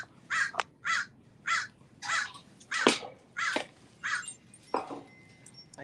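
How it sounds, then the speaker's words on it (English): Yard birds caw outdoors in a series of about nine loud, evenly spaced harsh calls, close by and with no talking. "the yard birds are making noise"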